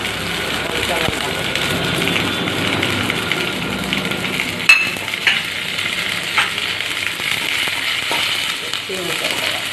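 Onions and green chilies frying in oil for arhar dal, a steady close sizzle with occasional crackles and stirring scrapes, while a voice speaks over it.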